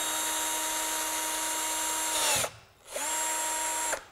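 A cordless power drill with heavy chuck wobble runs at a steady whine, briefly stops and spins back up, loud and close with no talk.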